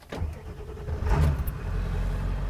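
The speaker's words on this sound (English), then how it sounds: "we're going to start the truck, make sure the truck starts and runs" A 1999–2003 Ford Powerstroke 7.3L diesel pickup engine cranking and catching, a brief whir then a rising rumble that settles into a steady, close idle.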